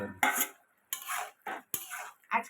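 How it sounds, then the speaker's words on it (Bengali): Potatoes and pointed gourd go into a pot of dal, heard as four short bursts of clattering, scraping utensil sounds against the pot, separated by brief silences. "এবার আলু পটলটা দিয়ে দিচ্ছি।"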